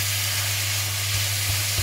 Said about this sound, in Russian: Жарю, вот оно жарится.